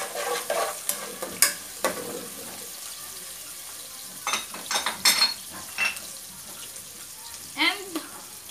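Pepper sautéing in a pan for Ilocano-style paksiw of pig's face: a soft, steady sizzle with bursts of scraping stirring that come in clusters, close and moderately loud.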